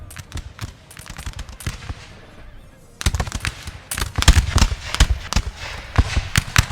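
Musket volleys crackle across a Napoleon: Total War battlefield, sparse scattered shots at first, then dense overlapping rolling gunfire that builds in loudness, all fairly distant with no talk.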